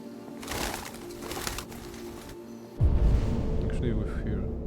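Wings flap loudly as birds take off in the game Detroit: Become Human, a sharp burst after a stretch of quieter game sound.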